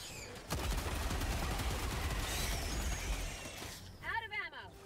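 Heavy video game gunfire erupts after a brief pause, a rapid overlapping fusillade of shots and crackling impacts that holds steady and loud before easing off, with a voice speaking near the end.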